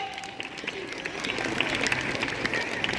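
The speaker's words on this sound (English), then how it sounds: "Give them a big round of applause, children." A school audience at an Independence Day celebration claps for a children's performance, a soft, fairly distant patter of many hands that swells slightly toward the end.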